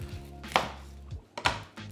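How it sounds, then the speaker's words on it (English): A knife chops through red onions on a board, two or three sharp close cuts spaced apart, with no talking. "you're either already a pro at chopping onions or you're gonna become one"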